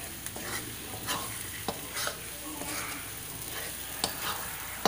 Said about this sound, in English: So till then you have to keep frying.